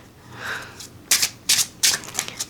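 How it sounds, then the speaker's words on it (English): Square Lenormand oracle cards in a special edition deck are riffle shuffled, giving three sharp, bright riffling bursts followed by softer card flutters and taps, close and loud with no talk. "this special edition, due to the square size, is making it tricky to do a riffle shuffle"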